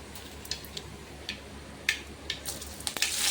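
Spices crackle and sizzle in a little hot oil with curry leaves and dried chillies for tomato rasam, with scattered pops and a steady hiss building toward the end.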